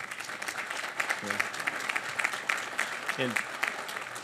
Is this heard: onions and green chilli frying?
no